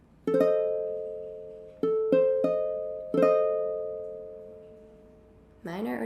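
A diminished chord rings out as single notes struck one after another and then together, each decaying slowly, clear and moderately loud with a voice starting at the end.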